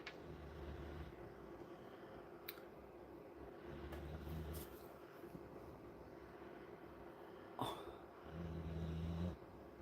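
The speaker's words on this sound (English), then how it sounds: "He snores louder than me." Faint snoring from a sleeping person nearby, low rumbling breaths recurring at a slow irregular pace beneath quiet background noise, with no talk.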